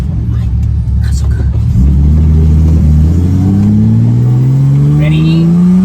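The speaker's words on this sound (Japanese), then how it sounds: "加速。" Datsun 240Z Fairlady Z S30 engine accelerating from inside the car, a loud low rumble whose pitch climbs steadily through the rev range, with faint background noises.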